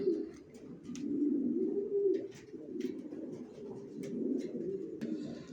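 Racer pigeons cooing close by, low throaty rolling coos that swell and fade continuously, with faint chirps and small knocks behind, no speech.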